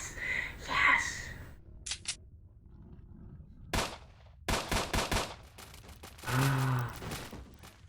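Sharp gunshots from S.T.A.L.K.E.R.: Shadows of Chernobyl crack out in a quick irregular burst of several shots aimed at boxes, followed by a louder rumbling impact, with quieter game sounds between.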